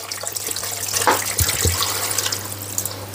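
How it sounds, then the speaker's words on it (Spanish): Water poured into a cooking pot for a traditional stew, about a litre and a half, giving a steady close splashing pour with a steady low hum underneath and a couple of brief knocks partway through. "Vamos a echarle litro y medio de agua, más o menos, a que le cubra"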